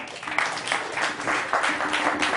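A church congregation gives applause to the Lord, steady dense clapping from many hands filling the room at moderate loudness, with a little voice noise underneath.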